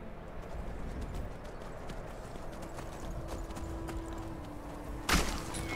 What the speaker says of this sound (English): Why, I made the horse jump there